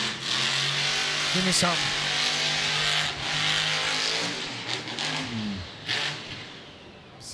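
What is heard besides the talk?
monster truck engine revving in freestyle event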